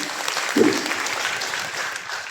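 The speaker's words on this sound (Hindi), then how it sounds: "एक बार उनको नाम से ताली बजाइए।" An audience claps in a steady, moderate patter through a short stretch, fairly close and without much swell, at an indoor gathering.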